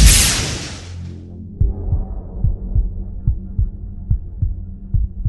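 A rapid heartbeat thumps in a steady, insistent rhythm, deep and close, after a brief bright whoosh at the start.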